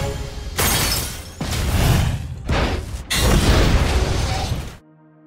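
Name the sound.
ship explosion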